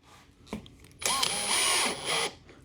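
A power drill spins up a Star-M countersink bit, a loud high whine holding for over a second after a brief earlier tap, then winding down.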